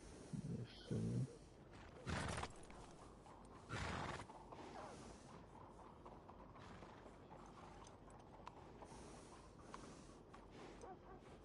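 Horse sounds from Red Dead Redemption 2: a few short, loud bursts of snorting and tack rattle early on, then quiet hoof clip-clop and faint mechanical noise under a low, distant background.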